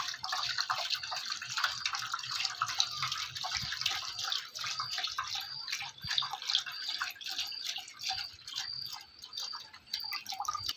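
Ground rice batter mixed with water is strained, a continuous soft trickling and dripping with faint splashy ticks, steady and fairly quiet throughout.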